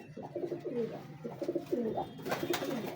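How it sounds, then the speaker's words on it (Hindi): A Chini pigeon coos nearby in a short series of soft, throaty rolling calls, with a few faint background sounds and no talk. "ये चीना कबूतर है माशाल्लाह।"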